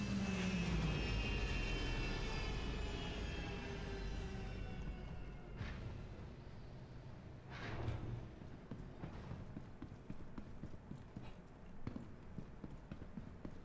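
Spaceship engine in flight in the game Star Citizen: a steady, low, broad rumbling drone, fairly quiet, with descending whines and a few swelling whooshes in the first seconds.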